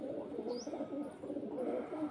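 Pigeons coo in soft, repeated low murmurs that run steadily throughout, fairly close, with a faint bird chirp briefly above them.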